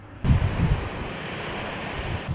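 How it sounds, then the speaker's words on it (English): Waves roll on Lake Michigan on a rough morning, a broad wash of surf mixed with wind buffeting the microphone, with a couple of heavier low surges near the start and no voices. "The waves are certainly rippling this morning"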